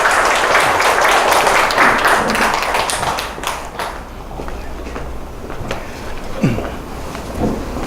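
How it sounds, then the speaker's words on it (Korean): Audience applause welcoming a speaker at a lecture, steady crowd clapping for about four seconds that fades into scattered claps, footsteps and a brief voice. "큰 박수로 환영해 주시기 바랍니다."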